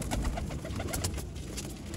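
Pigeons coo close by in a loft, a soft repeated throaty call that runs steadily over a low background rumble, with no voices.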